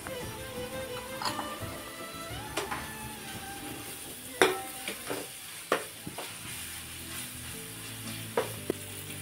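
Onion paste and ginger-garlic paste frying in hot oil for a mango fish curry, a steady close sizzle broken by several sharp clinks and scrapes of a spoon stirring against the pan.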